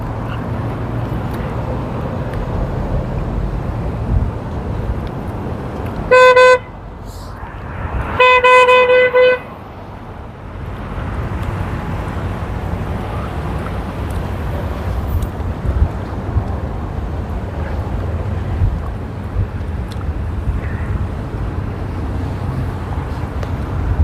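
Cars passing on a road amid wind noise, with two loud horn blasts, the second held for about a second, standing out over a steady traffic rumble.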